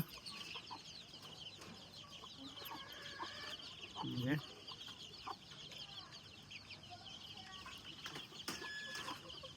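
Chickens cluck softly here and there against a steady outdoor background, with a few slightly louder calls midway.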